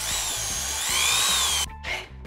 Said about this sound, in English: hand me the drill